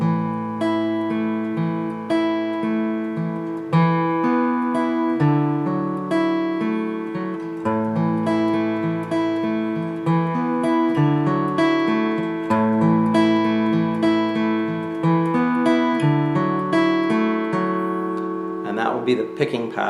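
Fingerpicked acoustic guitar plays a song's verse pattern, single plucked notes in a steady, even rhythm ringing over bass notes, close and clear with no talking.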